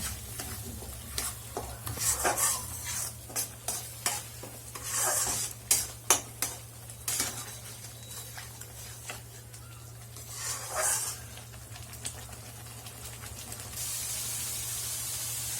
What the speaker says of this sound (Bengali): এবার ভালো করে মশলাটা কষে নেব